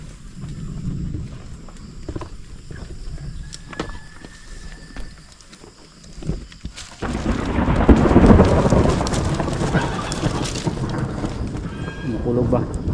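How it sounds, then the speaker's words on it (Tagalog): Thunder rumbles through a rainstorm on a rural countryside farm, a low broadband roll that swells loud and close halfway through and lingers under rain, with people talking faintly before it. "Makulog ba?"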